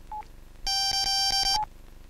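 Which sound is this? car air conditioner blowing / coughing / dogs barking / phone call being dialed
phone call being dialed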